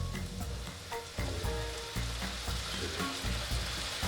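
Apple cider vinegar hitting a hot pan of beef and garlic, a dense, steady sizzle with crackling pops and some stirring, close and continuous without talk.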